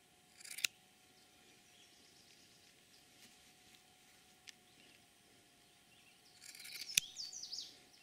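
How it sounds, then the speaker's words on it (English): Scissors make a few quiet, brief snips as small corners are trimmed off wool blanket fabric for mitten inners, with a short cluster near the end and near-silence between cuts. "I'm literally just going to take this little corner and snip that just a little bit off"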